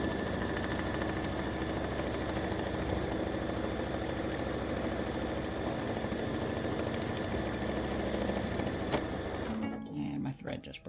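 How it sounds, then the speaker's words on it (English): An embroidery machine satin stitching a Halloween cowboy ghost patch in orange thread, a loud steady rapid mechanical hum and clatter running continuously before abruptly stopping near the end. "So this is going to do the satin stitching around the edge."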